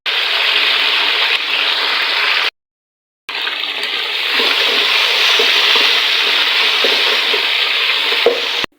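Garlic frying in a pan for chicken macaroni gives a loud, steady sizzle that runs continuously, breaks off for under a second, then resumes just as strongly, with no voices.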